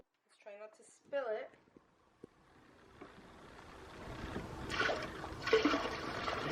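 Dirty mop water poured out of a bucket, a rising splashing gush that builds from a faint trickle to a steady pour, preceded by brief talk.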